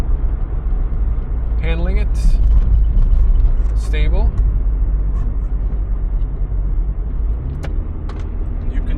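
A 1991 VW Golf 2 with a 1.8 90 HP engine and three-speed automatic is taken through a bend at night, with a steady low engine and road rumble throughout and someone talking over it.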